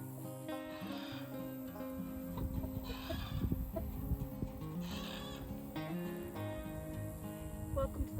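Barred Rock chickens clucking and calling in a noisy coop, a steady layer of overlapping bird chatter with occasional louder squawks throughout.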